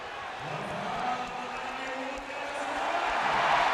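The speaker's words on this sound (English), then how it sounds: "you can hear the reaction from the crowd" Arena crowd at a 1996 Eastern Conference Finals basketball game, Bulls against Magic, reacting to a foul with a sustained, swelling roar and murmur that builds toward the end, under play-by-play commentary.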